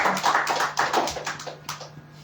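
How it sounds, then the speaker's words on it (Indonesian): A church congregation claps in a quick burst of overlapping hand claps, fairly close and steady, tapering off toward the end. "beri tepuk tangan buat Tuhan"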